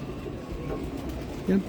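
Domestic pigeons cooing in a home loft of red-eyed birds, low soft coos under a steady background murmur, with a louder close coo near the end; someone talks nearby.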